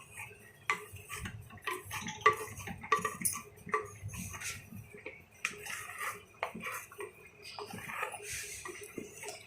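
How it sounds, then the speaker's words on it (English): Rabri being stirred and scraped in a clay pot, giving a run of irregular clinks and scrapes of a utensil against the pot's sides, close and moderately loud, with a faint voice in the background. "I need to show you how I'm stirring"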